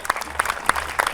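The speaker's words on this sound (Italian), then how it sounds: "facciamo un applauso alla mamma di Batman" An audience claps at a film screening event, a short burst of scattered, uneven hand claps with some voices mixed in.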